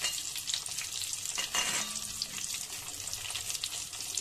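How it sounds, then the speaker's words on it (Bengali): Cauliflower florets fry in a pan and are turned over, giving a dense, continuous sizzle with scraping stirs and one louder turn midway, no voices. "এটাকে এরকম এপাশ ওপাশ করে পুরো ভাজতে হবে, কিন্তু ভালো করে ভাজতে হবে ফুলকপিটাকে"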